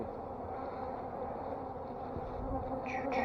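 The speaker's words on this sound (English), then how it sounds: "hear how they're buzzing, bouncing off my veil" Honey bees buzz steadily around a beekeeper's veil while a hive's honey super is worked, a continuous close insect drone with a few sharper whines near the end as bees bounce off the mesh.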